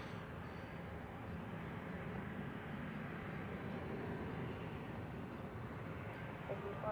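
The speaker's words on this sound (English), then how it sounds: "Ein sehr großes Flugzeug. A380 von Emirates." An Emirates Airbus A380 on approach at Zurich Airport in crosswinds, heard as a faint, steady, distant jet roar that stays even throughout with no other sounds standing out.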